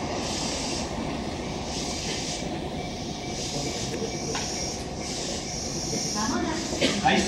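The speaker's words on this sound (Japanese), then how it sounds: "回送電車が発車します。" A Tobu 8000 series out-of-service train pulls out of Kasukabe station, a steady rumbling roll with hissing and a faint whine, heard close on the platform throughout.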